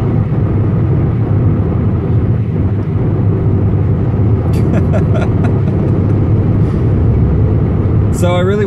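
A Mk6 VW GTI with an APR K04 v3.1 tune accelerates hard toward redline, a loud, sustained engine roar with heavy road and wind noise from inside the car, while someone talks over it.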